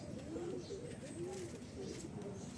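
Soft, low Madrasi pigeon cooing repeats in short rolling phrases beneath a steady background murmur, close but not loud.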